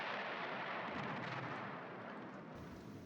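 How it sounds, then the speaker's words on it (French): Artillery shells bursting beside trenches in a war film, a dense continuous roar of distant and near blasts merging into a rumbling barrage, loud and steady throughout with no speech. "On voit d'ailleurs très bien sur ce plan les obus qui explosent au bord des tranchées."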